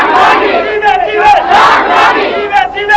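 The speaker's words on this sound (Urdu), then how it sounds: "تمام حضرات مل کر نعرہ بلند فرمائے اور اپنے قائد کا استقبال فرمائے۔" A large crowd at a religious gathering welcoming a leader chants slogans in loud, rhythmic unison, with voices surging and echoing together close by.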